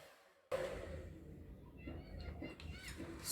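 A stand or hand mixer whirs steadily, beating wet ingredients for a pineapple almond cake; the motor starts abruptly and runs loud and close without a break.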